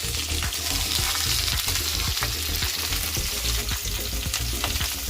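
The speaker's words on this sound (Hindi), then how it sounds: "इसमें पहले मैं आलू और गोभी फ्राई कर ले रही हूँ।" Potato and cauliflower pieces fry over full flame in hot oil, a loud, dense, continuous crackling sizzle with small popping bursts throughout, close up and without talk.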